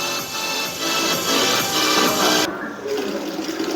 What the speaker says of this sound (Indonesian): Ini tuh keran air yang ada di kamar mandi ya